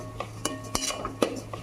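A spoon scrapes and clinks against a pan while mango laddu mixture is stirred, several sharp irregular metallic taps over a low steady hum, close and fairly quiet.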